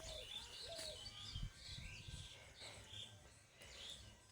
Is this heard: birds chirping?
yes